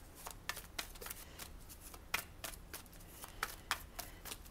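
Tarot cards being shuffled in a quiet room, a close series of soft, papery riffles and snaps arriving in irregular bursts, with no voices.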